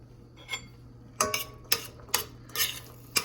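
Chickpeas and ginger being mixed in a pot at home: a series of about eight sharp spoon-on-pot clinks and scrapes at an uneven stirring rhythm, close and fairly quiet, over a low background hum.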